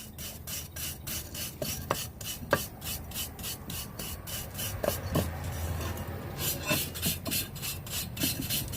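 Rust is scrubbed off a knife blade in fast, rhythmic rasping strokes, close and steady, with a short pause partway through.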